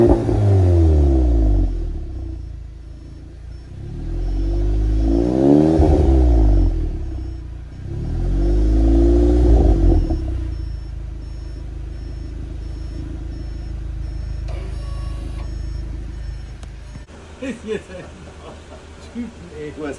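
A VW Golf GTI Performance engine revs hard three times in close succession, each rising roar falling back, then settles into a steady idle with clatter and light movement noise toward the end.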